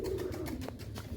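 A pigeon coos close by in a soft, low, rounded call, a short throaty purr that lasts about a second.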